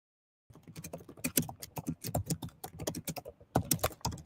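Clattery typing on a computer keyboard: after a short silence, bursts of close, crisp keystrokes follow in quick irregular runs, with a few heavier hits and a brief pause near the end, no voices.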